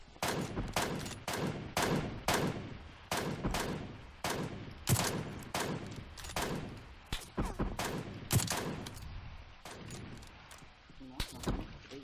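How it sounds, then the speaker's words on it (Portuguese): Gunfire in the battle royale PUBG Lite, with rapid bursts of sharp, close shots coming in clusters throughout, while players talk over the shooting. "Tem alguém atirando na gente, eu só não sei da onde, mano."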